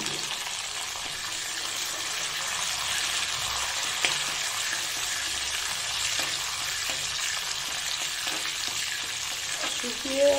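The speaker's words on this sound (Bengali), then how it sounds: "মাঝখানে দিয়ে দেবো সর্ষে ফোড়ন দিয়ে দিচ্ছি" Mustard seeds and curry leaves sizzling in hot oil, a steady dense crackling hiss that runs throughout at moderate level, with a few faint clicks and a brief scrape near the end.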